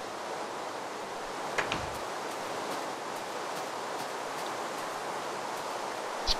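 Steady downpour of rain in Minecraft, a dense even hiss with no voices, holding at one level throughout with a couple of faint clicks.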